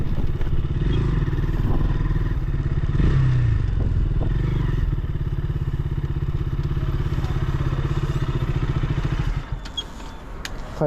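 A motorcycle cruises along a highway at night, its engine thrumming steadily at close range with wind rumble, light clatter and scraping knocks throughout.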